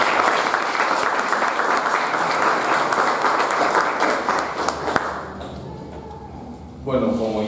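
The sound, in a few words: applause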